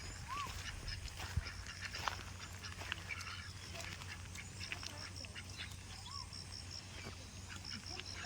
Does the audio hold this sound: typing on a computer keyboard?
no